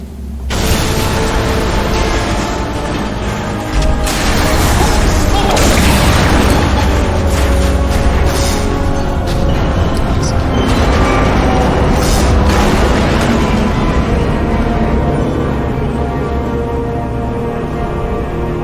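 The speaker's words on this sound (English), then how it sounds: "It's exploding. Rocks are falling" In the video game Portal Stories: Mel, a sustained loud explosion swells into a deep rumbling roar as rocks crash and tumble down, dense and continuous without a break, with no voices.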